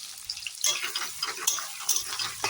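Sliced onions for ghugni land in a hot pan and start frying, a bright close sizzle that rises suddenly after a quieter opening and keeps crackling with small pops.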